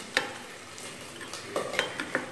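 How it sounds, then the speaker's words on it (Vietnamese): A spoon stirs a mixture of fish sauce, garlic and chili in a bowl, giving soft scraping swirls punctuated by a few sharp clinks against the dish, close and without talk. "Bây giờ mình hòa cái hỗn hợp này lại."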